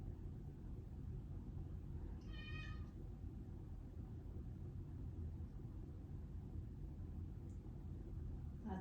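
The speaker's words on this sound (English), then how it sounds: "That's my cat crying." A male house cat gives a single plaintive meow, faint and somewhat distant, over a steady low rumble in a quiet room during a gentle yoga session.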